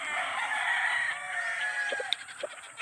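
Chickens and roosters on a farm of nearly a thousand birds, a long rooster crow over a chorus of clucking, with a few sharp clicks toward the end.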